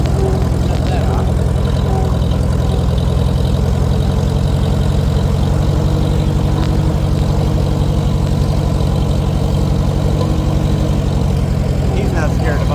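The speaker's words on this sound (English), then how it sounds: "tractor's going by" A Farmall Super H tractor engine idles with a steady, low, chugging thump that runs unbroken throughout, loud and close, while people talk faintly underneath.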